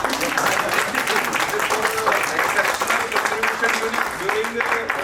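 Steady applause from a workshop audience continues for several seconds in a full, even wash, while a voice speaks over the clapping.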